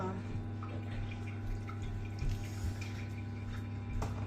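Water pours in a steady trickle into a pot, with a low background hum throughout.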